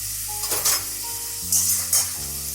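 Grated tomato and spices sauté in a pan for a lote fish bhorta, a close, bright sizzle with several distinct bursts as the mixture is stirred and scraped against the metal.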